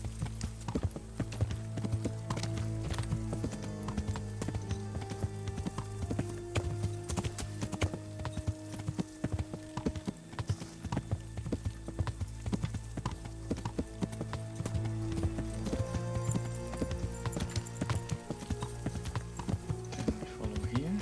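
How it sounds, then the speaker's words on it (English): Horse hooves clip-clopping at a steady riding pace, rhythmic and moderately close, with occasional faint voices in the background. "I want to mount the horse."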